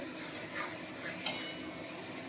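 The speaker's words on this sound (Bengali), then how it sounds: "তারপরে এগুলো সবগুলো একসাথে আমি কষবো।" Spices sautéing in a pan for a Bengali bhola fish and potato curry, a soft steady sizzle with light stirring and one brief sharp clink of a utensil against the pan midway.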